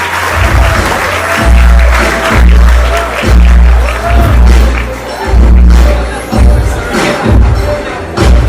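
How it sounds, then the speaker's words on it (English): Guests at a wedding reception give the parents a big round of applause, loud sustained clapping and cheering from a crowd that swells in waves, with a deep amplified voice or tones underneath. "let's do a big round of applause for all the parents"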